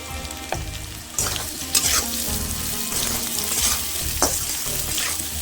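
Drumstick stalks sizzle steadily in hot oil with turmeric and salt, with repeated scraping stirs of a spatula against the pan, close and loud over faint background music.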